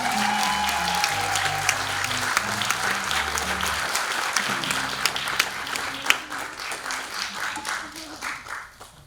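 Audience applause at a poetry summit following a poem reading, sustained clapping from a crowd throughout, with low speech or music sounding beneath the first half before tapering off near the end.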